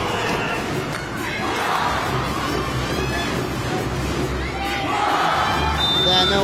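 A packed arena crowd at a 2018 women's world championship volleyball match between the USA and Japan roars continuously, a dense wash of cheering and shouting that swells in waves over faint commentary.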